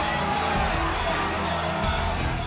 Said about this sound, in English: And still they have their TV on and they're still cheering.